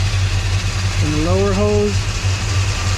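A custom 1955 Chevy engine runs at a steady idle, a low, even hum that continues under a voice for the whole stretch.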